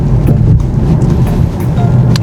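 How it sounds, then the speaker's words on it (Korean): Cabin road noise inside a Kia K5 hybrid on the move: a steady low rumble and hum of tires and wind, loud and continuous, with no talking. "조속 구간에서 조금 시끄럽다고 느껴지네."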